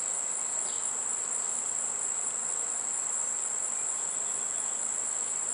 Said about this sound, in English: she's got plenty of bees in here